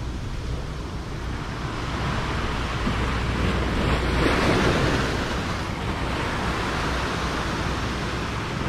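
Pacific Ocean waves wash onto a rocky fishing shore in a steady, loud roar of surf that swells midway as a bigger wave rolls in, with wind rushing across the microphone.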